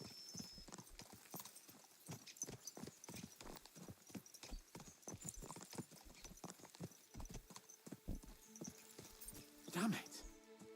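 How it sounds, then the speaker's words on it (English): Horses gallop at speed in the medieval open-world game Kingdom Come: Deliverance 2, hooves pounding in a rapid, steady clip-clop rhythm close by, with a brief whinny near the end. "Let's really spur these horses on, eh?"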